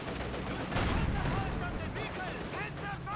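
Tank cannon and battle gunfire from a T-34 in Company of Heroes 2 multiplayer, dense booms and crackling shots layered with chirping effects under a talking voice.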